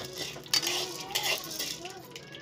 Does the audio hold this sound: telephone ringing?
no